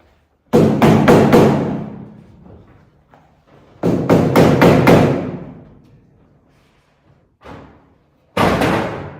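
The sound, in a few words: tapping with a hammer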